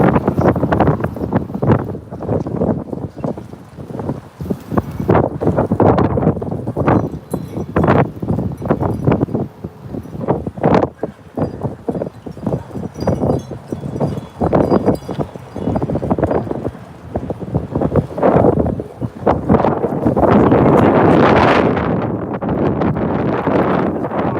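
Gusty wind buffets the microphone in heavy rumbling bursts, with rustling and footstep-like clatter throughout, strongest and steadiest toward the end.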